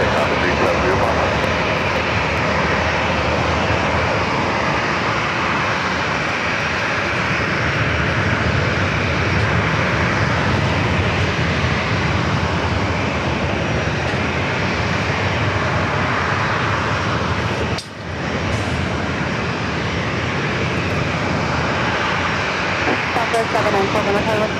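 A jet airliner rolls for takeoff on runway 27 at San Diego airport, its engines producing a loud, steady, broadband roar that holds for the whole stretch with only a brief dip, with no other sounds breaking through.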